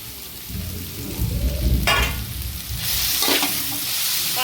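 Tajank (sickle senna) leaves fry in a pan with a crackling sizzle, loud scraping stirs and a few sharp bursts of spitting oil, close and without speech.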